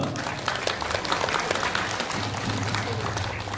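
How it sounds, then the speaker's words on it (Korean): Continuous crowd applause at an outdoor political rally in Yeosu, South Jeolla, a thick steady clapping roar with a low hum running underneath. "큰 박수 부탁드리겠습니다"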